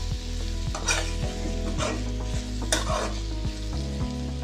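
Chilli powder is stirred into a frying potato, brinjal and pea curry: a constant close sizzle with rhythmic spoon strokes scraping through the pan roughly every half second.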